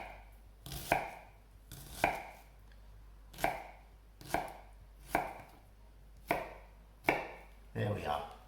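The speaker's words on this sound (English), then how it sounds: "cut through, don't cut right through the onion, leave the root so that it holds the onion together" A knife chopping through an onion on a board, seven or eight evenly spaced crisp cuts about one per second, each a sharp thud with a slicing rasp, close and fairly quiet with no voices.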